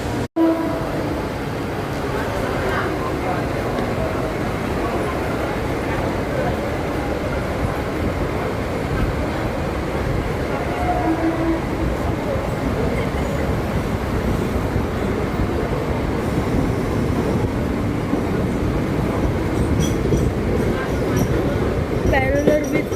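A Mumbai local train running on the line near Virar, a loud continuous rumble and clatter of wheels and carriages from inside the coach, steady throughout with faint voices in the background.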